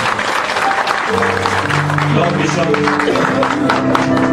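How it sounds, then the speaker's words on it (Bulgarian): A church congregation bursts into loud, sustained applause, dense clapping filling the room while a voice speaks and music tones enter over the top. "Нека да го пляскаме за Господа."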